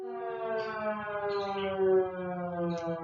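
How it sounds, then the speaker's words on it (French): A fire brigade siren wails with a steady harmonic-rich tone that rises slightly in pitch and swells in the middle, sounding moderately loud and continuous with no voices. "C'est la sirène des pompiers."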